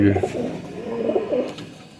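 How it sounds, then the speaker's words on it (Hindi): Pure rooftop pigeons coo in soft, low, rolling calls close by, with a faint voice briefly at the start. "ये छत वाला प्योर कबूतर।"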